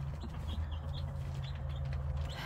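Chickens cluck softly inside a backyard coop wrapped in plastic, with a few faint, brief calls over a steady low background hum.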